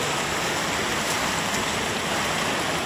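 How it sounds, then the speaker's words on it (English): Fountain water splashes in a loud, dense and steady rush, close by and constant with no pauses. "The water splashing is so wet."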